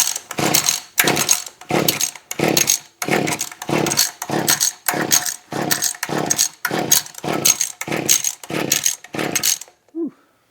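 A Mantis tiller engine with the choke on is pull-started about a dozen times in a quick, even rhythm. Each pull makes a loud, raspy ratchet of the recoil cord, and the engine never catches.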